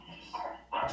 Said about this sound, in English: Philip, is that your dog?